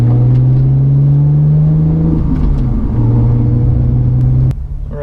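A manual-transmission car pulls away from a stop, its engine droning loudly and steadily as revs rise, dip briefly at a shift, then climb again before easing off at the end.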